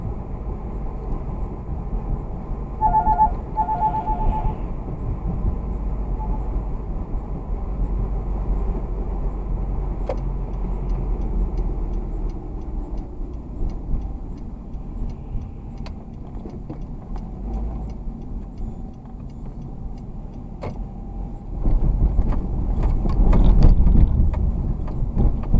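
A car driving through a Milwaukee neighborhood, with a steady low engine and road rumble throughout, a couple of faint higher tones early on, and a louder surge of road noise near the end.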